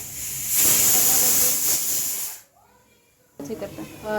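Kitchen mixer grinder whirring as it blends mango pulp with sugar and cardamom for aamras, a loud steady hiss-like roar for about two seconds, then a pause and a shorter restart.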